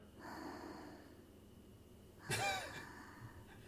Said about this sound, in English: Snoring noise.